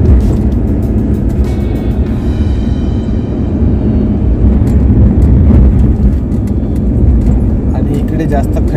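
A car cruises along the Mumbai Goa Highway in steady, continuous road and engine rumble, with a person talking over the drive throughout.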